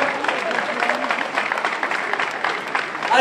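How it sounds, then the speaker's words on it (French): Loud, dense applause from a large audience at a sand-sculpture queens gala results show, steady clapping filling the whole stretch with crowd noise and some voices underneath. "si vous applaudissez très fort, ils vont vous le refaire"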